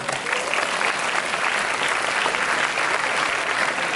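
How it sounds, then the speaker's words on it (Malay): A school audience at a Maal Hijrah celebration applauds its religious teachers, producing a thick, continuous wash of clapping from many hands that stays loud and even throughout. "Bagi tepukan Ustaz-Ustaz kamu."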